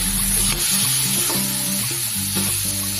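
Mutton fat hits a hot pan and sizzles loudly, a constant close hiss of frying with a few stirring scrapes and clunks, no voices.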